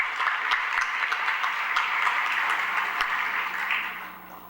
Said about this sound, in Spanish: Yo le pido a ustedes que por favor le den un aplauso,